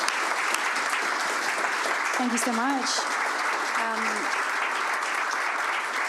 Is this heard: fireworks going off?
no